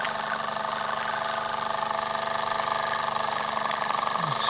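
A Latimer Production Plane L5 toy steam engine with a heavy flywheel runs steadily, giving a continuous close mechanical chuffing and whirring hum with a fast even rhythm, and no voices.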